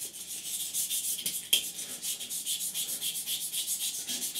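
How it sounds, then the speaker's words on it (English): A sanding stick rubs back and forth over the side intakes of a 1/48 Academy F-4B Phantom plastic model kit, giving a steady run of close, rhythmic scratchy strokes with one sharper scrape midway. "You can give them all a good sand, no problem at all."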